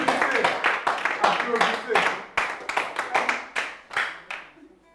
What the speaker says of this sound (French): Applaudissez, non, applaudissez.